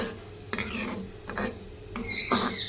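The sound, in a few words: frying onion and spice mixture in a pan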